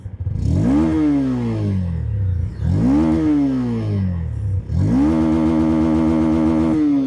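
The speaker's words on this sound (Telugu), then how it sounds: "సో ఫస్ట్ ఆఫ్ ఆల్ మీకు దీనికి ఎగ్జాస్ట్ నోట్ వినిపిస్తాను చూడండి" A 2026 Honda NX200 motorcycle exhaust revs three times, each a rising rasp that climbs then falls back, with the last rev held longer, loud and close with no speech.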